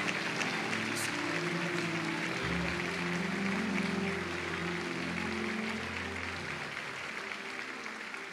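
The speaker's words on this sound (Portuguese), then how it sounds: "aplaudindo a Jesus, bem forte" A church congregation at a miracle crusade service applauds loudly, a sustained, dense wash of clapping from a large crowd, with a low musical drone underneath.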